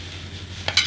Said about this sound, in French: nous procédons au mélange hors du feu